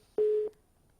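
A telephone busy signal after a disconnected call during a Haryana news broadcast, a single clear, loud electronic beep lasting about a third of a second, then silence.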